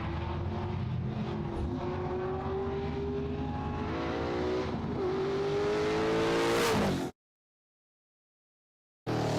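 Muscle car with 580 rear wheel horsepower accelerating down a racetrack front stretch, engine note climbing steadily and loud before an abrupt cutoff into silence.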